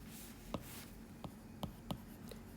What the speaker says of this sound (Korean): 요거 위에다 한번 써볼게요